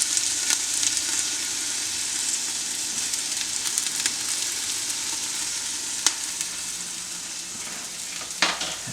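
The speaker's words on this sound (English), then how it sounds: "All those beautiful carrots are going to go in and get cooked." Carrots dropped into a hot soup pot fry with a continuous bright sizzle and crackle, with a few clunks from stirring and ingredients landing.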